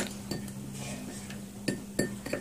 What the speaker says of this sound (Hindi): और इसे अच्छी तरह से मिक्स कर लें